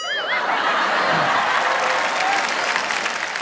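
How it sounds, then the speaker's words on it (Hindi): Audience applause at a Hindi comedy poetry show, loud sustained clapping from a crowd with a few laughs mixed in, filling the whole few seconds. "तालियां बजाइए"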